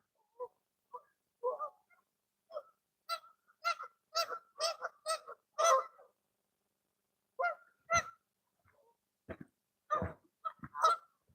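Male and female mallard ducks call from out on snowy, icy water in a series of loud honking quacks, some bunched in quick runs and others spaced apart, heard alone against a quiet background.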